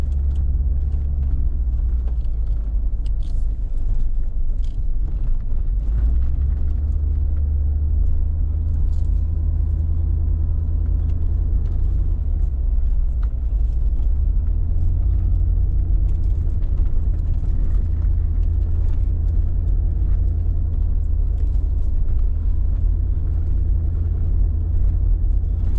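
A car drives slowly up a sandy desert wash toward Black Dragon Canyon in the San Rafael Swell, a steady loud low engine and tyre rumble continuing throughout with no talk.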